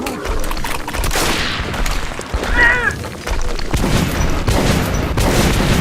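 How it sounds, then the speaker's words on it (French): Concentrated gunfire at a monster in Metro Last Light Redux, loud rapid bursts of shots and booming impacts running almost continuously, with a creature's shriek in the middle and excited talk underneath. "On concentre les tirs!"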